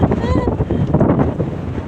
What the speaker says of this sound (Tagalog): Grabe ang hangin mga palit.